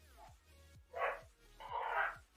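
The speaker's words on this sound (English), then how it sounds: "so you could hear the dogs barking and things like that." Two or three short bursts of dog barking, moderately close, with faint yapping in between, then a louder cluster of barks toward the end.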